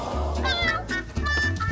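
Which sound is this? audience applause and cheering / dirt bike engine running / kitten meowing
kitten meowing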